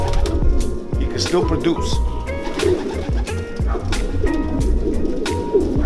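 A racing homer pigeon coos in soft repeated low calls, close by, under a voice talking over a busy loft with scattered clicks and bird noise.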